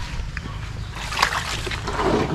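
Laundry is hand-washed in water at a rural home in the Philippine province, giving soft sloshing and splashing with small watery clatters under a faint background voice.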